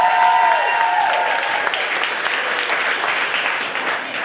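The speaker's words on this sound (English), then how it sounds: "So let's clap it up, get the energy high" A live audience claps and applauds steadily at a 100th-episode event, a dense, loud wash of hands that holds throughout without a break.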